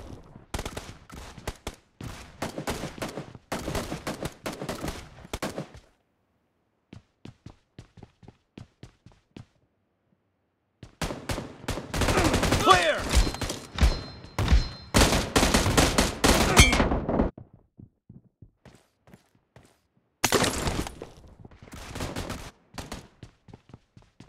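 Gunfire in the PUBG Mobile team deathmatch game: loud bursts of rapid automatic shots in several clusters, separated by quieter gaps with scattered single shots and footsteps.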